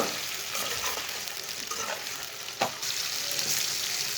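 Boiled mutton fries in a pan for noodles, giving a moderate, steady sizzle broken up by brief scraping and stirring knocks, with one sharper clatter near the end.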